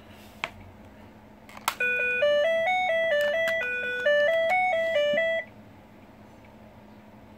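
A 1991 Teenage Mutant Ninja Turtles Turtle Com toy plays an electronic beeping melody after a few button clicks. The stepped tones run for about four seconds and then stop, with no talking.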